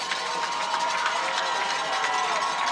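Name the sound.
football crowd cheering at homecoming game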